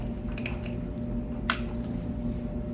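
Ketchup is squeezed from a bottle into a meatloaf sauce. One short, wet squelch sounds up close and quiet over a faint kitchen hum.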